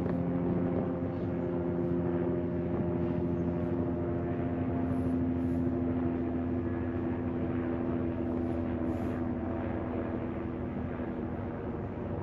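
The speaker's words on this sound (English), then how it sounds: "Helicopters, planes, all of them coming out now." Steady low droning of helicopter and plane engines overhead at Uluru at sunset, a continuous hum with propeller tones that holds level throughout without any talking.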